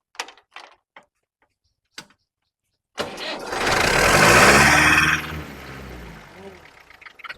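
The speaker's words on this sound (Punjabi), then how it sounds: "ਇਹਨੂੰ ਸਟਾਰਟ ਕਰਕੇ ਦਿਖਾਓ ਟਰੈਕਟਰ" After a few sharp clicks and silence, a tractor engine cranks and roars to life nearby, revving briefly before settling into a lower idle.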